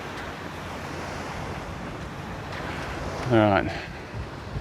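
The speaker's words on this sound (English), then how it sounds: "So that wind is picking up on this side of the island now" Wind and surf rush steadily on a Maldives island beach, a broad, continuous roar of moving air and waves, with someone briefly speaking near the end.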